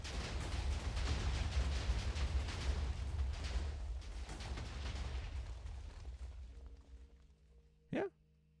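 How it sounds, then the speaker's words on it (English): Explosions boom continuously in a Minecraft game on the Constantiam server, a dense roaring rumble of blasts that gradually fades out, ending with one short sharp pop. "And the kaboom starts."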